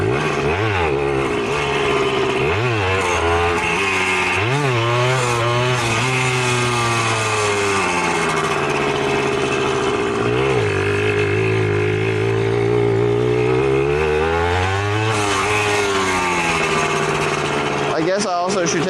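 A Suzuki DS80 80cc two-stroke dirt bike idling close by, a steady buzzing engine note that wavers and blips up in revs several times, with a voice speaking briefly over it.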